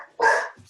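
A pet dog gives a single short, loud bark, close and distinct, with a little low residue trailing after it.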